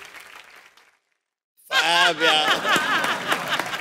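A studio audience at a comedy show bursts into loud, close applause after a brief silence, mixed with cheering voices and laughter, following a short stretch of quieter talk.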